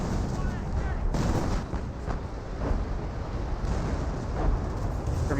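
Artillery shells boom and rumble in a Company of Heroes 1 battle, a dense barrage of heavy, overlapping blasts and low rolling explosions with no clear gaps between them.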